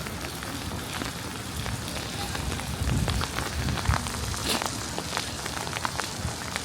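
Rain falls steadily on the stone town square of Tallinn, a dense, close hiss of drops spattering on paving, with occasional louder splashes and no voices.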